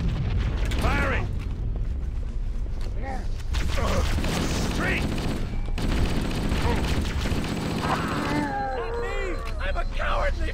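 Sustained gunfire and mechanical battle noise in the shooter game Halo, loud and continuous, with voices talking over the combat and alien chatter near the end.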